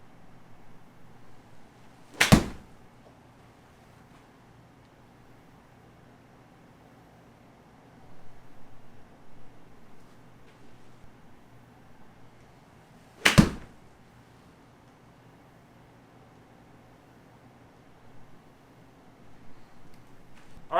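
Two golf balls are struck from 100 yards into a SkyTrak simulator setup, each impact a sharp, loud crack about eleven seconds apart, heard close up in an otherwise quiet room.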